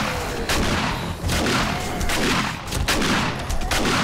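Shotgun blasts ring out during a horde-night fight against zombies in 7 Days to Die, a string of loud, booming shots spaced irregularly over dense, continuous combat noise.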